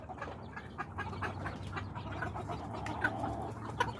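Hen squawking and clucking while a drake fights with roosters, faint farmyard fowl calls repeating over a low steady background hum, with a few sharper cries toward the end.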